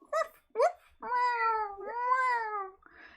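Cats meow as a sound effect for cats raining down in a fantasy tabletop game: two short, sharp meows, then a long, drawn-out wailing meow and a faint final cry, all close and clear.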